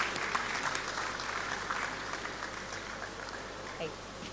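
Audience applause in a conference hall during a digital economy event, a fairly quiet, continuous patter of clapping from many hands that fades slightly toward the end, with faint voices beneath it.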